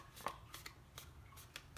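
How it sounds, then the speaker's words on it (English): A paper flower petal being folded in half, several soft crisp paper rustles and creases in quick bursts, close and quiet with no talking. "I just fold it in half"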